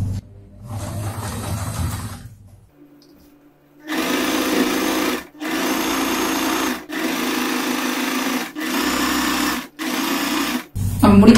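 A sewing machine stitches bias binding onto an apron in repeated bursts: one short run, a pause, then several longer runs of rapid mechanical whirring separated by brief stops, close and clear.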